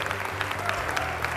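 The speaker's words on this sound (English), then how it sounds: "Can we give a great Lib Dem cheer" A political party crowd cheers and applauds at a Lib Dem gathering celebrating a royal birth, a dense sustained wash of clapping hands and voices throughout.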